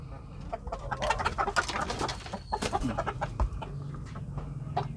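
Chickens cluck and squawk busily while being fed wet feed mixed with molasses, a dense chorus of close birds throughout.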